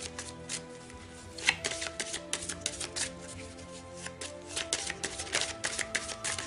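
Tarot cards are shuffled by hand in quick, crisp bursts of riffling and slapping, close and fairly quiet, with irregular flurries over several seconds and no speech.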